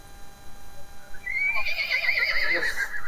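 A horse at a horse market in Yeola lets out a loud, close whinny with a quavering, descending neigh, over crowd murmur and low market background noise.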